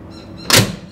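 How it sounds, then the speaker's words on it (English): The front door of a 63-year-old car opens in a single short, close latch-and-swing sound. "if you open up the front door"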